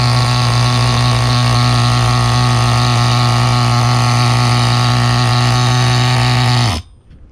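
A vintage nitro RC car engine with a loose clutch spring runs loud and close in a steady high-pitched buzzing drone, then cuts off abruptly near the end into near silence.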